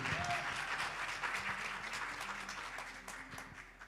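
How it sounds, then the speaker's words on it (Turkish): Audience at a Turkish singing competition semifinal applauds the jury, a moderate burst of clapping that starts full and slowly fades, with a low murmur of voices underneath. "Değerli jürimiz için de programımızda bizlere göstermiş olduğu katkılardan dolayı sizlerden bir alkış daha rica ediyorum."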